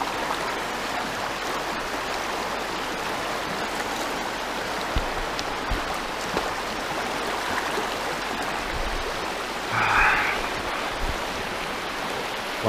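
A shallow river stream flows steadily and close by at a riverside campsite, with a brief splash of water around the middle as someone washes their face.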